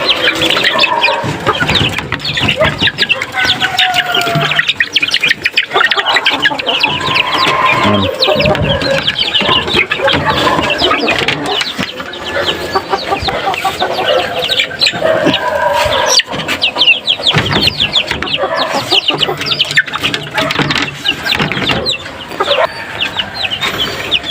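Backyard-raised chicks and chickens at a drinker, a dense, continuous chorus of loud chirping and clucking that fills the whole stretch with no pauses.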